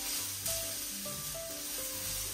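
Chopped carrots sizzle alongside chicken in a frying pan, a steady close hiss with faint tonal tones above it and no talking.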